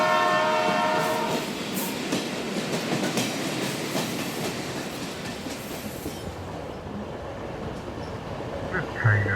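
A train rushes past with its horn blaring at the start, followed by a loud, steady roar of wheels and carriages clattering over the rails, fading slightly toward the end.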